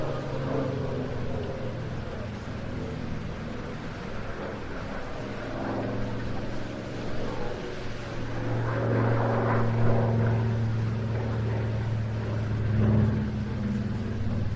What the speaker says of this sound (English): the B17A bomber version, like the one we see here, arrived with F4 Wing in 1944